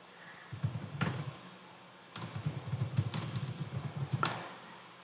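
Fingers type on a computer keyboard in two short bursts of quick, close key clatter separated by a brief pause, with no one talking.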